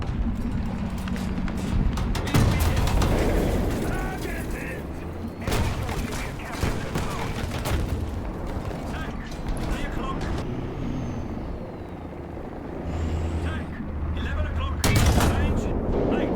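Tank cannon fire and battlefield rumble from the War Thunder tank game, heavy booming shots and engine noise throughout, with a voice talking over it.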